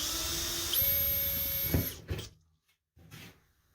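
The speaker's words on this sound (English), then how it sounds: "So let's drill a hole." A power drill bores a small hole in plastic to mount a chrome bathroom hook: one high whining burst of about a second, then it winds down, followed by a couple of faint knocks.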